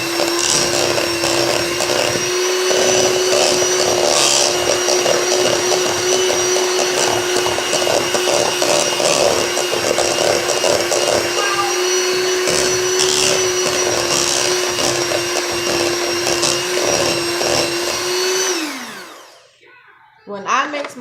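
An electric mixer whirs steadily through sugar cookie dough, a loud continuous motor drone with a fixed pitch that holds for about eighteen seconds, then winds down and stops, followed by a brief clatter.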